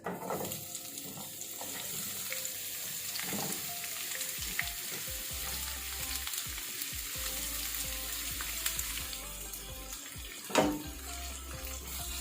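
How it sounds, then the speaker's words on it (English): Onions fry in heated olive oil for a caramelized onion sandwich, making a steady close sizzle with scattered crackles, occasional stirring knocks and one louder clatter near the end, with no talk. "Once you put the olive oil, wait it to heat, and then you add your onions."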